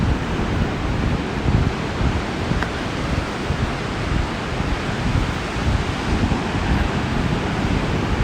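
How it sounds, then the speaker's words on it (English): Ocean waves break onto a sandy beach at sunrise, a continuous broad roar of surf and spray mixed with wind buffeting the microphone, steady and loud with no voices. "Do you see the spray coming off the top of the waves as they break onto the water, onto the sand?"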